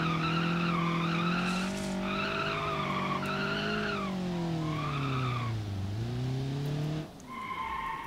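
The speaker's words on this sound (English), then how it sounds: "front wheel drive burnout, of course." A front-wheel-drive Ibishu Covet doing a burnout in BeamNG.drive: steady engine drone with shifting pitch under continuous, loud tire squeal that rises and falls in pitch for about seven seconds before easing off.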